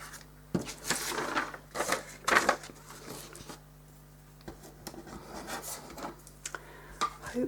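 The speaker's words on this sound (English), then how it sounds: "scrape some light into each of these, so with the flat again" A flat brush scrapes across damp watercolour paper in short, close rubbing strokes, some louder swipes among faint handling noises, with long quieter gaps between them.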